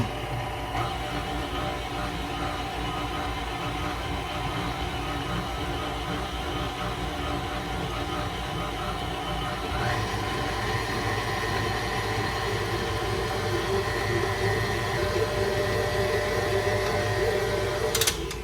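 A stand mixer with a dough attachment kneads cinnamon roll dough, its motor a steady mechanical drone with rhythmic churning that grows slightly louder partway through, heard close and without talk.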